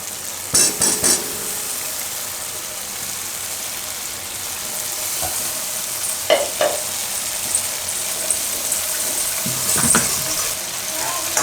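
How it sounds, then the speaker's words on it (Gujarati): Gravy for a Gujarati chickpea and potato curry (chana bateta nu shaak) cooks in a pan, giving a steady soft sizzle with a few louder stirring clatters near the start and scattered spoon scrapes later on. "થોડીક વાર આપણે ગ્રેવી પકાવી લીધી સારી રીતે"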